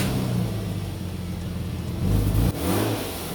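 A project car engine, once prepped for a GTE swap, revs loud and near with a steady mid-range drone, then a rising surge, a brief stumble and recovery, no speech.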